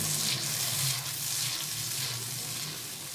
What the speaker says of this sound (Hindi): अब हम इसमें डालेंगे दाल। इसे अच्छे से मिक्स कर लेंगे